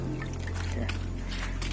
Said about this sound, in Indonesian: teman-teman bisa lakukan siram seperti ini terus-menerus sampai semuanya terpastikan benihnya basah